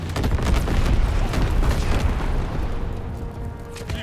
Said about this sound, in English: Incendiary bombs incoming. Flak guns firing.